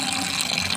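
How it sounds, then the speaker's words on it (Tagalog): A strong, steady gush of running water pours continuously and loudly, a dense full rushing sound with no pauses. "Ang lakas ng tubig."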